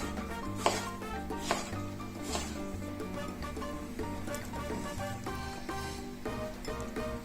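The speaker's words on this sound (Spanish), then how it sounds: "Cortamos a lo largo y a lo ancho." Knife chopping sliced tomatoes on a cutting board, sharp close taps at an irregular pace under a steady background of music.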